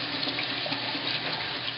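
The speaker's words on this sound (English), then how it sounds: "And the rice will get rinsed as well until the water runs clear." Running tap water pours steadily over white basmati rice being rinsed in a sink, a continuous even splashing hiss close up with no speech.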